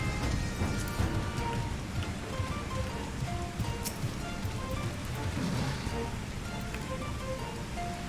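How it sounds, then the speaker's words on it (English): Rain falls steadily in Final Fantasy XIV, a dense, continuous patter with faint scattered tones over it, moderately loud throughout. "Yes, it is raining. It is raining."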